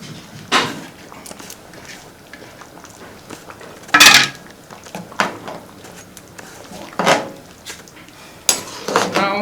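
Periwinkles being tipped into a pot of Ofe Owerri soup, a handful of sharp clattering knocks and metallic clinks spaced a second or two apart against a quiet kitchen background.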